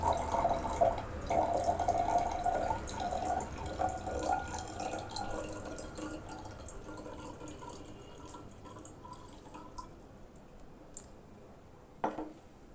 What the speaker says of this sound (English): In this, I am pouring water without disturbing settled particles.